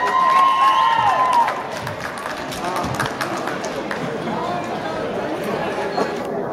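Crowd applause and cheering fill a middle school basketball gym for the Manchester Middle School Bulldogs, loud at first with a sustained roar, then easing to steady clapping and crowd noise; a short whistle-like tone rides over the start.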